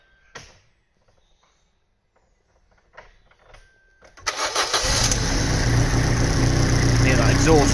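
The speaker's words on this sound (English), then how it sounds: "just start the car up" A Vauxhall Corsa engine with an oxygen sensor fault and a blowing exhaust cranks and catches after a few quiet moments with faint handling noises, then settles into a loud, steady idle that runs to the end.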